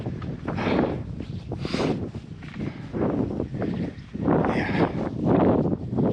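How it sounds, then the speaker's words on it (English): Strong wind on the Humber Estuary buffets the microphone in heavy, irregular gusts, a loud rumbling roar that swells and eases with no talking. "Oh, windy here."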